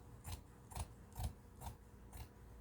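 Scissors snip through blouse sleeve fabric in five evenly spaced, crisp cuts, faint and close in a quiet room.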